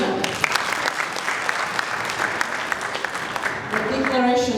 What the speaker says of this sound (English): A round of applause for Sharina.